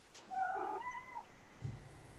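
A cat meows close by in a couple of drawn-out, wavering cries, then gives a short lower call near the end, with no one talking over it.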